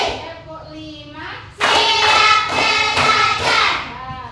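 Schoolchildren in a classroom clap hands together in a loud, rhythmic burst of five claps, following a short spoken lead-in from a voice.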